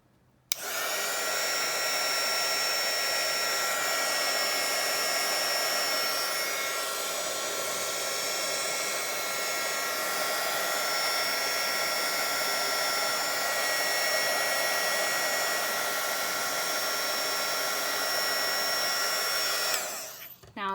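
A heat tool blows steadily for about twenty seconds as it warms sculpting foam flower petals, a close, even whooshing hum that starts and stops abruptly.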